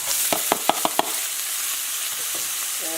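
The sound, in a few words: green onions, carrots and bok choy frying in pan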